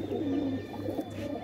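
Homing pigeons kept by a pigeon breeder coo softly and steadily, a low continuous murmur close by with no talk.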